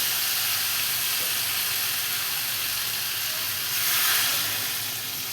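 Water poured onto well-fried spiced masala in a pan while cooking a crab curry sets off a loud, steady sizzling hiss that swells briefly near the end, with no talking.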